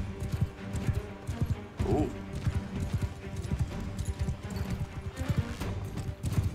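Horse hooves gallop in Mount & Blade 2: Bannerlord, a fast steady clip-clop close up, with a brief voiced exclamation.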